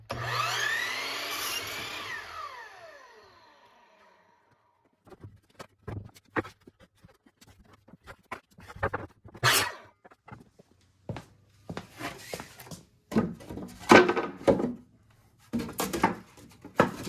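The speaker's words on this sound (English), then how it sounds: "Now I'm gonna cut 3 pieces of cedar, 4 feet long, 48 inches." A power saw cuts 48-inch cedar boards for a simple wood planter box, opening with a loud whining rip that dies down, then scattered close knocks and clatter of boards being handled.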